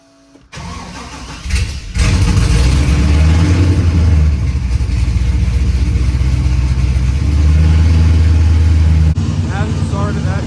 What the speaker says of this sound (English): let's see how this cold starts.